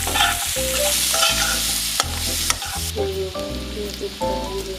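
Chicken curry stirred in a pan with garlic, cumin and coriander powder frying, a steady loud sizzle broken by repeated scraping stirs and short clattering strokes, with no talking.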